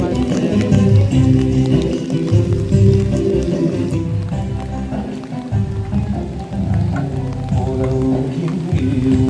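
Heavy rain falls on an outdoor memorial gathering serving Mullivaikkal kanji, a constant loud wash of rain and crowd bustle with voices mixed in throughout.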